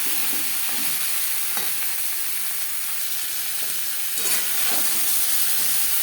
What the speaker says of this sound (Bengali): লবণ হলুদ পটলের সাথে বেশ ভালো করে মিক্স করে দেবো।